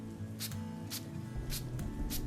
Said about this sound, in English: He sprays a liquid on his paws, making the air smell strong of alcohol for a moment.